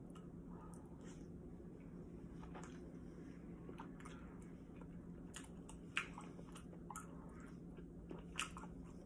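Cheese-filled fish balls in spicy tteokbokki being eaten, soft close chewing and squishy bites with a few faint crunches, over a low steady hum and no talk.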